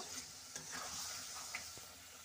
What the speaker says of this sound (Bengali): তো পনির দিয়ে একটু নাড়াচাড়া করে আমি সামান্য পরিমাণ মতো জল দেব।